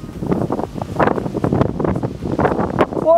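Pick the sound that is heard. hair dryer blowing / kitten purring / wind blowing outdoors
wind blowing outdoors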